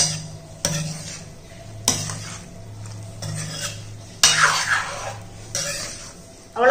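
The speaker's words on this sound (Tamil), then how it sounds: "இப்போ இதை எல்லாத்தையும் நல்லா மிக்ஸ் பண்ணிக்கிறோம்ப்பா" A metal spoon stirs lemon juice through soup noodles in a pot on a gas stove, sharp scraping clinks against the pot at irregular intervals over a low hiss, close and clear.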